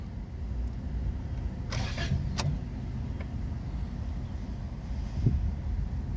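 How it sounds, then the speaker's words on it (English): A 2017 Toyota Corolla with an intermittent no-start fault, fitted with a new starter and starter relay, cranks steadily with a low, even churning that never catches. Several faint clicks and rattles sound over the cranking. "Now it's turning over, and it doesn't want to, start."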